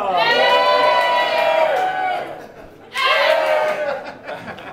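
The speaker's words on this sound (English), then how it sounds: "as I get to the point, you start to cheer" Crowd cheering on cue, with two loud swells of shouting voices and a brief dip between them, plus a little laughter.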